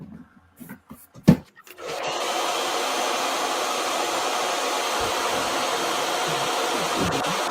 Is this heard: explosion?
no